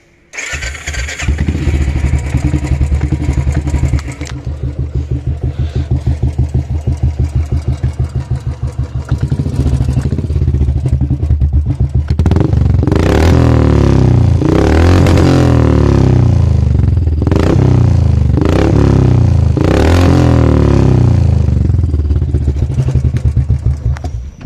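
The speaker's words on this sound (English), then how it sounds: "That was the exhaust note of this custom Royal Enfield Hyper Cruiser." A custom Royal Enfield Hyper Cruiser motorcycle starts up close and settles into a thumping idle, then the exhaust barks through several loud throttle blips before easing back.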